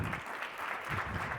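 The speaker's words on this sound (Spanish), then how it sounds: "Fuerte aplauso para Marina." Steady, dense audience applause after a conference talk on biohacking with Python, a continuous wash of clapping from a seated crowd with no pauses and no voices over it.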